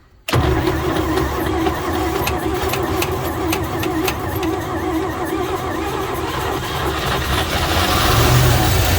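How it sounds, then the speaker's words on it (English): A 1949 Chevrolet engine on a cold start attempt catches after a brief crank and settles into a loud, steady running rumble close by, with no talking. "You see if it'll crank back up, see if it'll stay running."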